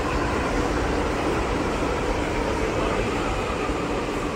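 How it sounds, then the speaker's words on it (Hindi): Steady, loud rumble of a Delhi Metro train running alongside on the adjacent track, a continuous broadband roar with no talking. "पीछे भी एक मेट्रो आ चुकी है, ये देखिए निकल गई साइड से रुके।"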